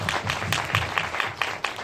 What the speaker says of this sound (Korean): 박수 한번 세 분께.